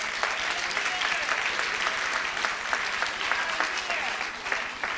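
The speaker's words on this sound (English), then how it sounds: "Okay, round of applause." An audience at a Peace Corps awards ceremony claps steadily for volunteers from 1961, producing an even, moderately loud roll of applause that holds for the whole five seconds.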